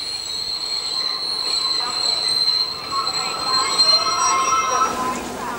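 A train pulls into the Aulendorf rail junction with steady rolling noise and high, sustained wheel squeal, loud and close throughout.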